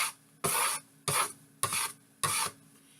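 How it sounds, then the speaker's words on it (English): Board scraper rasping minced shallots across a cutting board in four quick, even strokes, close and dry with short pauses between each scrape. "Scrape the shallots in"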